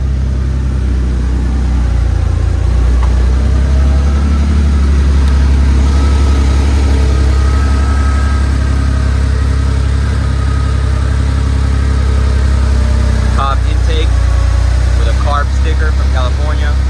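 A 1984 Porsche 911 hot rod engine idles dead cold after a cold start, a steady, loud, close rumble throughout, with brief voices near the end.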